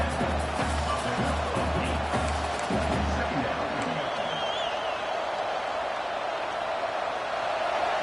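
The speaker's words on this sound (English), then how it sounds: "Listen to the crowd energy here in the early going." Steady roar of a stadium crowd in the College Football 26 video game, a dense continuous wash of cheering that stays loud throughout.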